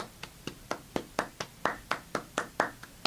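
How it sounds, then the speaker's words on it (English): A single person claps steadily, about four sharp, close claps per second in an even rhythm with no voices. "I'm just gonna keep applauding"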